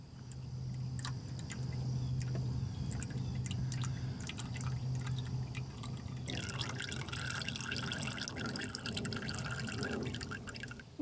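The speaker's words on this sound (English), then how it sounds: "Getting the last drips out of there." Irregular drips of engine oil fall from a Jeep TJ's drain into liquid during an oil change, sparse at first and then quickening, over a quiet low background hum.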